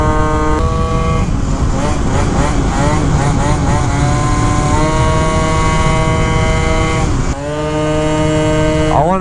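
A custom-built scooter engine revs on the move, loud and near, with rising and falling pitch sweeps as it pulls through gears, one brief drop, then climbing again; a voice is faintly present.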